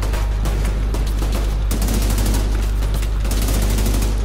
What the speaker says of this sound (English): they're throwing frags